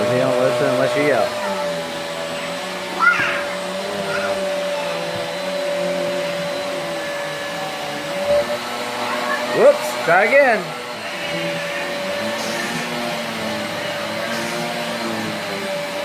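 Steady droning hum of a vacuum cleaner handled by a small child runs unbroken for the whole stretch, loud and close, with short bursts of adult and child speech over it.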